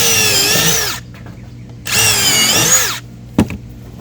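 A power drill pre-drills holes in pool deck boards, running in two loud bursts of about a second each with a pause between, then a short knock near the end.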